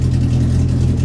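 Car engine idling just after a cold start, with oil pressure running too high; a steady, loud low-pitched hum and rumble close by, unchanging through the moment, with no talk.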